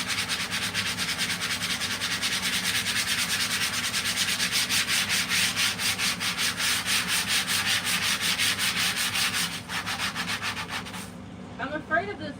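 Power sander grinding steadily across the floor inside a converted bus during a flooring renovation, a loud continuous rasping rub with a rapid pulsing texture that runs nearly the whole time before cutting out near the end.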